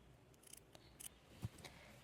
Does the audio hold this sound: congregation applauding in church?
no